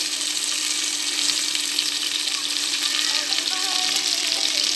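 Garlic, green chillies and salt fry in hot oil in a pressure cooker for a beef gravy, producing a loud, dense, continuous hiss and sizzle heard up close with no pauses.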